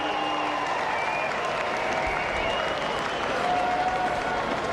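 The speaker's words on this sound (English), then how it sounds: "I think the crowd have just realised that there's something special going on out there from Bret Lee." Cricket crowd applauding a fast bowling spell, a dense sustained wash of clapping and cheering from a large stadium audience that swells slightly toward the end.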